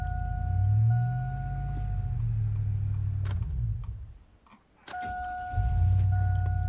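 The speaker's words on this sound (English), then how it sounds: "once you get the green, then you can start the vehicle" Car engine cranking and turning over with the help of a Hulkman Alpha 85S jump starter, a low throbbing engine rumble with a key jangle partway through, then the engine settles and picks back up.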